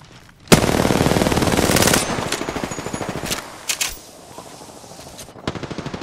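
Enemy automatic gunfire in Apex Legends rattles in a loud sustained burst, then breaks into shorter volleys and scattered single shots, close and dominant with no talking.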